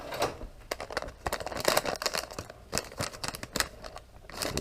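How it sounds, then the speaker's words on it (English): Packaging for a set of 194 wedge LED car bulbs being cut open with scissors, a faint close series of irregular snips, clicks and plastic crinkles. "Cut this one open."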